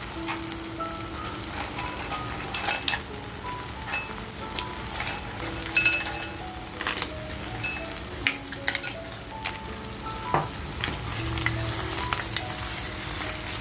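Mud crabs fry in oil with black masala, a steady close sizzle with occasional sharp pops and spatters running throughout, no voices.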